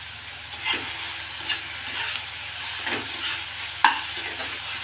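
Ginger, garlic and spices for kaju masala cook in a pan with a steady soft sizzle, broken by a few louder scrapes and clinks of stirring; no one speaks.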